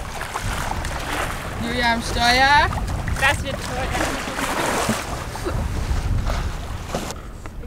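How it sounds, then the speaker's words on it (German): Wind rushing past a sailboat running downwind in 14 to 19 knots off Finland, a steady broadband roar and buffeting throughout, with people talking over it. "Wir haben 14 bis 19 Knoten Wind."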